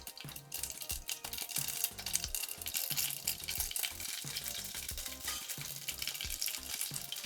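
Mustard seeds crackle and sizzle in hot oil, a dense, loud, continuous spatter with rapid popping bursts throughout and no talking, while a spicy brinjal-potato curry gets started.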